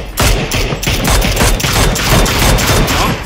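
Dense, rapid gunfire from a battle royale video game, sustained and loud throughout with overlapping bursts of shots and no talk.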